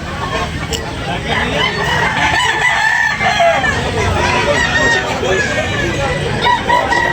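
A red backyard rooster, about three years old, crows loudly at an expo amid a dense, noisy crowd babble, with indistinct voices chattering under the call.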